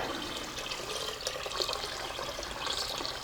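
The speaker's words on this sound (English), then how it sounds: "So I'm going to add water to this and let it boil." Water splashes and pours steadily into a pot of rice for a few seconds, a bright continuous gush with no voices.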